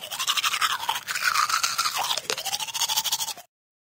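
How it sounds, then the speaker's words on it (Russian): Teeth brushed with a toothbrush, rapid rhythmic bristle scrubbing strokes, close and fairly loud, continuing for several seconds before stopping abruptly. "медвежонок почистил зубы своей зубной щеткой"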